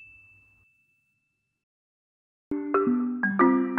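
A single high ding from a subscribe-style notification bell sound effect rings out and fades at the start, followed after a pause by a louder burst of bright layered tones.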